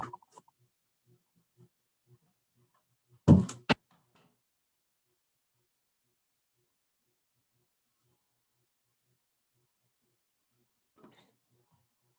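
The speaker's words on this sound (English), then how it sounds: "I am going to close the door" A door closing indoors as a single sharp thump with a brief second knock, surrounded by near silence and a few faint distant sounds.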